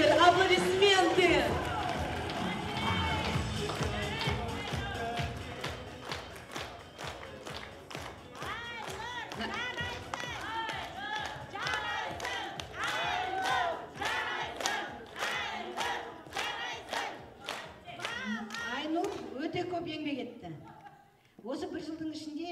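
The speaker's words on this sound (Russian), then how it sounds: "Аплодисменты." Audience at a corporate anniversary celebration breaks into applause and cheering, then settles into loud rhythmic unison clapping that speeds up, with shouts and voices over it, fading near the end.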